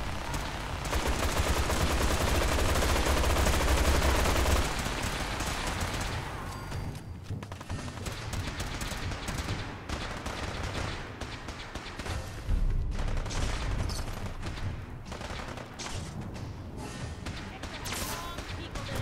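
Artillery strike explosions in the Fallout 4 video game: a heavy roaring blast rumbles for the first few seconds, followed by a scattered string of sharp bangs and gunfire-like cracks, loud and close.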